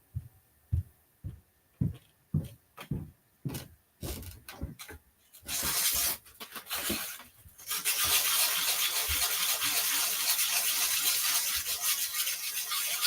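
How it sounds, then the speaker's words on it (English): Rhythmic rasping strokes of a hand file on a metal jewelry piece, short and evenly spaced, then a continuous louder scraping rush. "So we're just filing this thing down."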